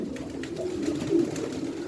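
Pigeons in a loft give soft, low cooing calls, a continuous murmur with a couple of slightly louder coos near the middle, alone and close.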